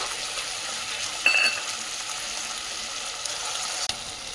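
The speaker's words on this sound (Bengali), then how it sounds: "টমেটো এখন ভালো করে একটু কষে নেব" Two large grated tomatoes with ginger and salt cook in a pan for Kashmiri paneer, giving a quiet steady sizzle with a couple of brief scraping strokes and a clink.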